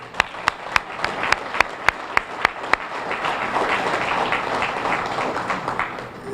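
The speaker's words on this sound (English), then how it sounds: "I want to give you all a round of applause." At a Veterans Day gathering, about ten sharp, evenly spaced claps ring out close by before a broad, sustained round of crowd applause swells and carries on.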